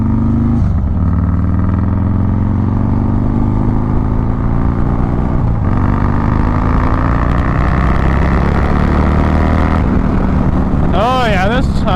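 A motorcycle fitted with a fairing roars loudly throughout a test ride, its engine droning and shifting pitch with gear changes, heavy wind rumble underneath and a rising rev near the end, with a rider talking over it.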